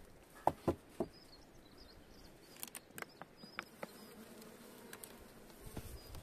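Honeybees buzz softly inside an opened spring hive, a faint low hum under scattered close clicks and taps of handling, with a few louder knocks early on.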